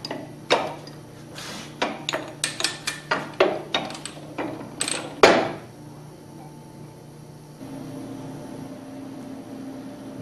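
Shaft being pushed and knocked out of a Hypro centrifugal pump assembly: a run of about a dozen sharp metallic taps and hammer strikes at irregular intervals, close, ending with a heavier hit before a low steady hum.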